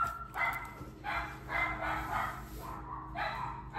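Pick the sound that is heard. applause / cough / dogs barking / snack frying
dogs barking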